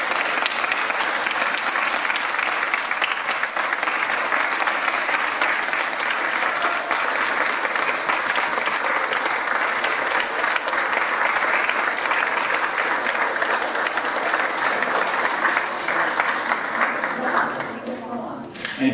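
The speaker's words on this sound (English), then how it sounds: "And so let's give Gary a big round of applause." An audience applauds loudly and steadily, the sustained clapping continuing close and dense before it fades away near the end.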